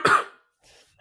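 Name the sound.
cough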